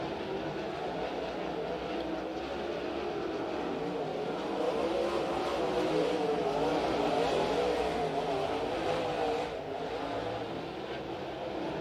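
Race cars in a NARC race at Stockton Dirt Track make a steady, loud engine roar that swells slightly midway and holds without a break, with no talk over it.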